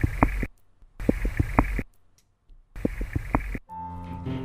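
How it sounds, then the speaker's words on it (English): Short bursts of low, knocking drum sounds made by Arctic char repeat in quick series through a hissy underwater background, separated by quiet gaps, followed by a humming tonal sound. "the first evidence that Arctic char produce drum sounds"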